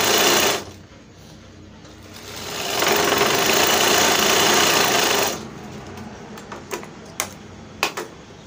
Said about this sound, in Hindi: इसको आधा से यहाँ से सिलाई मारेंगे।